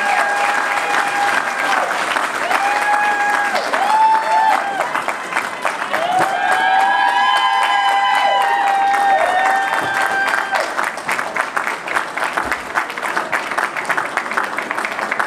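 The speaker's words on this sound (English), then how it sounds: "Once again, let's give them a round of applause" Loud, sustained applause fills a hall at a California Wrestling Hall of Fame induction ceremony, dense clapping with cheers and whistles rising over it throughout, a speaker's voice briefly audible beneath.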